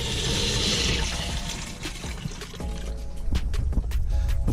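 Water gushes and splashes out of a 1985 Ford Mustang LX 5.0 radiator during a cooling system flush, a continuous rushing pour with some dripping and gurgling, close up, without talk.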